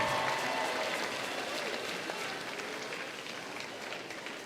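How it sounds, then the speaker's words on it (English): Crowd applause fills a women's basketball gym, steady clapping from fans honoring senior band members, loud and sustained throughout before gradually easing slightly. "Fans, how about a round of applause for our Viking seniors in the band?"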